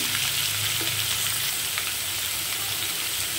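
A pan of vegetable curry made with ripe cucumber, slit green chillies and salt sizzles steadily over the heat, a loud, continuous close frying hiss with faint stirring.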